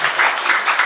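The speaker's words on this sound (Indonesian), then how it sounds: "Tepuk tangan buat tim multimedia Alban ya." A large mosque congregation at a religious gathering in Bandung breaks into brief, dense applause for the multimedia team, a loud, even wash of clapping lasting under a second.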